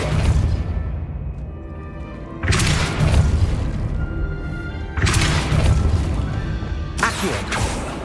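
Depulso spell impacts in the video game Hogwarts Legacy: three loud, booming blasts at regular intervals, each a broad crash with a whooshing tail that decays before the next, heard alone without talk.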